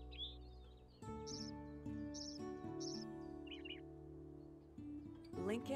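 Recorded Lincoln's sparrow song from the digital Wingspan board game, bright chirps and trills repeating in short bursts over a sustained soft musical drone, with a quick rising flourish at the end.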